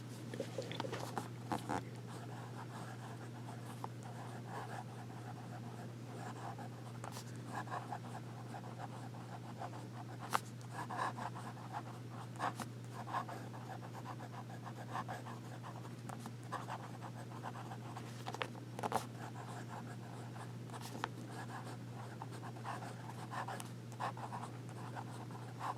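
A Visconti Blue Lagoon fountain pen with a smooth, wet nib scratches softly across paper in steady close strokes over a constant low hum, with no talk.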